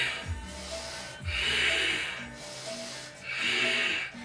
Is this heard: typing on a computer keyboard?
no